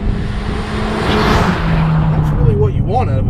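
Big-turbo Volkswagen MK6 GTI with a limited-slip differential accelerating hard, a loud steady engine roar with a rising whine and a brief tire chirp, heard from inside the car while someone talks over it.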